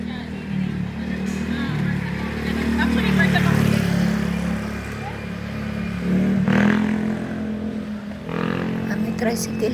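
A motorized tricycle passes along a road in Batangas, its engine rumbling and rising as it draws near and then fading, with traffic noise around and people talking over it.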